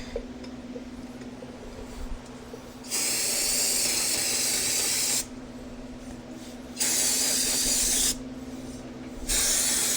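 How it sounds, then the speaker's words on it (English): Shop-grade Windex is sprayed in three long hissing bursts of about two seconds each, with short pauses between them. The cleaning is on a 2002 Polaris Sportsman 400 ATV front axle job, over a low background hum, and there is no talking. "Now I'm going to get some shop grade Windex and go ahead and clean this up."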